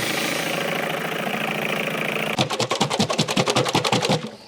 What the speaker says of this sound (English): I have the air shaker for it, but I don't have it mounted, so you just have to put it on the ground and just ride it like a cowboy